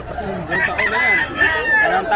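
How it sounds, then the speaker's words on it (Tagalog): A two-year-old crossbred fighting rooster crows once, loud and close, in a long drawn-out call at a busy Malolos pet market, with faint voices in the background. "andito tayo sa panabong na manok ni Kuya"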